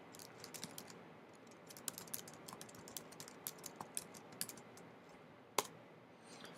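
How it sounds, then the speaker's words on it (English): Keys clatter steadily on a computer keyboard as someone types in an email address, a quiet run of light clicks with a few sharper taps and no voices. "I'll type my email"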